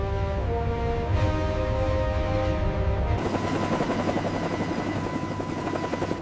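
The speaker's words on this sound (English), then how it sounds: "Helicopters provide stability against Black Sea wind and currents." Helicopters hover above an excavation of a massive ancient Byzantine cargo ship on the Black Sea, with a steady, loud rotor drone and engine whine running throughout, its tone shifting partway through.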